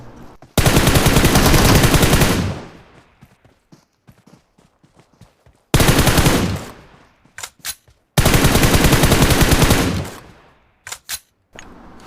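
Automatic gunfire during a fight in the mobile battle royale game BGMI: three loud, sustained bursts of rapid shots, each trailing off, separated by scattered single cracks and quieter gaps.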